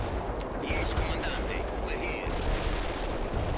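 Bursts of gunfire and artillery from units fighting in the video game World in Conflict, loud and dense with repeated sharp reports, heard over a steady rumbling battle bed.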